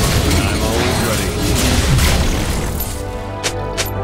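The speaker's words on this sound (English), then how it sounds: "Enemy turret destroyed." An enemy turret is destroyed in Wild Rift, a loud crashing, booming burst of mechanical debris and rumble lasting several seconds, ending in a couple of sharp clicks.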